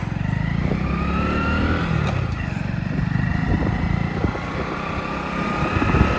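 A motorcycle ridden by a first-time learner drones steadily and loudly for several seconds. A rough engine rumble runs under a windy hiss, with no talking.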